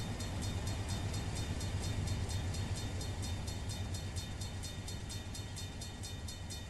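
A 10,000-foot intermodal freight train rolls past in the Run 8 train simulator game, giving a steady loud rumble with a regular clicking wheel rhythm that holds through the whole stretch, close and without talk.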